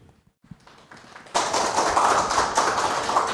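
A few scattered taps in a quiet room swell suddenly into full, steady applause from an audience at a seminar on Mexican regulations, and the applause holds loud and broad until the end.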